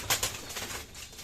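Pigeons flap their wings in a loft, a few quick rustling flutter bursts close by, fairly faint, with no talking.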